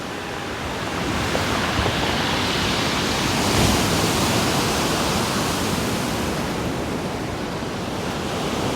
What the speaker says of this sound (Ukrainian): Такі хвилі серйозні. Б'ються об набережну і отак доходить аж хвиля наверх.